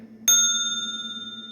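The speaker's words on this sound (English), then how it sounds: "We got our little bell over here." A small bell is struck once hard, a sharp clear ding that rings on steadily and slowly fades, heard alone in a quiet room.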